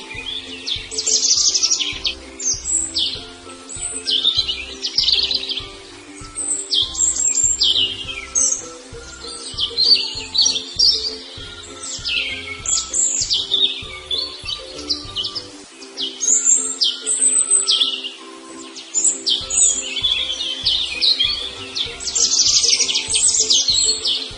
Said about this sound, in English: Two birds.